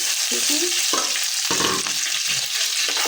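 Onion and puffed rice frying in hot oil in a pan, a strong steady sizzle broken by stirring clatters and scrapes, close and loud with no speech.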